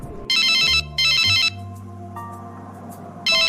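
Phone ringtone of an incoming call, loud and close: three bright electronic ringing bursts in a repeating pattern, with a low tonal hum between them.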